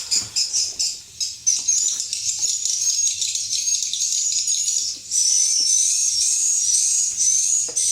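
A pressure sprayer mists pest treatment in a steady, close, high hiss. It comes in sputtering bursts at first, then runs almost continuously with one short break.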